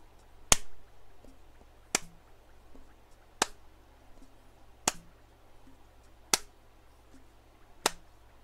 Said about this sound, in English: Clapping so I can get the rhythm